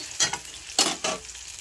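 Vegetables frying in a pan for a Bengali cauliflower-stem chorchori are stirred in a few brief scraping strokes over a soft, steady sizzle.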